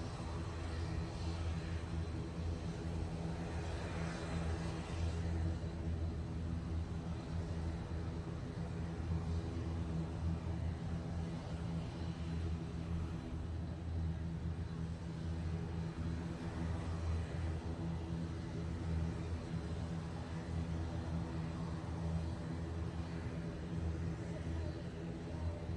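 An airliner departing Manchester Airport for Guernsey produces a continuous low engine drone with steady humming tones, holding constant and moderately loud throughout.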